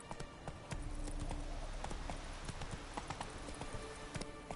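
Horse Roach gallops in The Witcher 3, hooves clip-clopping in a steady, rapid rhythm at close range against a continuous background of outdoor game ambience.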